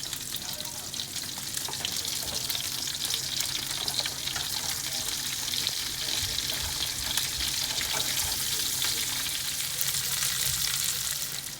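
Bacon and asparagus frying together in a pan for a Cajun pasta, a steady, dense sizzle and crackle running the whole time with faint scraping, close and loud.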